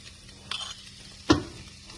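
Beans frying with peanut powder and ghee in a pan make a faint, quiet sizzle, broken by two sharp spatula scrapes against the pan about a second apart.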